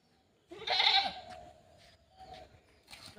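A goat gives one loud, close bleat, followed by quieter bleats in the background.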